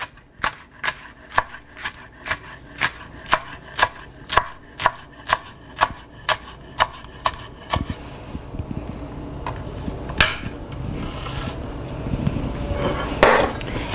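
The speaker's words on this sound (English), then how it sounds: "I'm going to chop some scallions for the pasta." Knife chopping trimmed scallions, white and light green parts, on a cutting board: about sixteen crisp, evenly spaced chops, loud and close, then softer scraping and handling noises.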